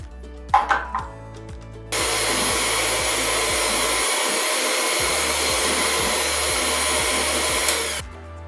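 Electric hand mixer beating pineapple upside-down cake batter with eggs and oil, running as a loud, steady whir for about six seconds after a few short knocks, then stopping abruptly.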